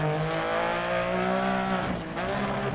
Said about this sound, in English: I tried to do a little handbrake right there